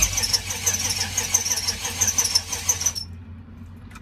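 A 1995 GMC box van with a 5.7 engine and a bad fuel pump cranks steadily and loudly without catching, the starter churning on for about three seconds before cutting off into near silence.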